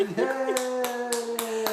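A toddler's small hands clap in a steady rhythm, five or six sharp close claps spaced evenly, while an adult's sung, encouraging voice carries underneath.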